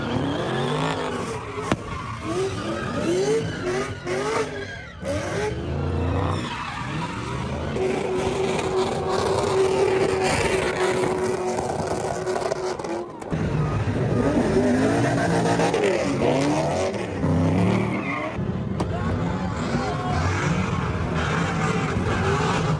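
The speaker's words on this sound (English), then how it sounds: "A sideshow with fires, burnouts, and Roman candles." Cars doing burnouts at a San Francisco street sideshow: a loud, continuous roar of revving engines and screeching tires, with crowd noise beneath and a brief drop near the middle.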